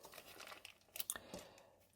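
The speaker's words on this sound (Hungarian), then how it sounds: "leszedjük róla körbe a papírt" Baking paper peeled away from around a freshly baked poppy-seed guba cake, giving soft crinkling and tearing rustles with a few sharper crackles near the middle, quiet and close.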